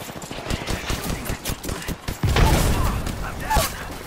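Rapid gunfire rattles through an Apex Legends match: steady close bursts of shots in a quick rhythm, then a heavier impact, with other game sounds mixed in.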